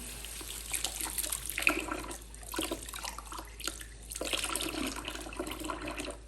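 A tap runs into a sink as trumpet parts are rinsed, giving continuous splashing and gurgling water that shifts and dips as the parts move under the stream, close and moderately loud, with no talking.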